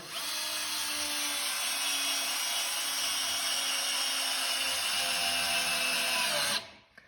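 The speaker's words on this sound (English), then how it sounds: "Certainly a tough test for a small drill like this." A Bosch GSR 12V-140 cordless drill driver whines steadily under heavy load driving screws for several seconds, then cuts off abruptly near the end.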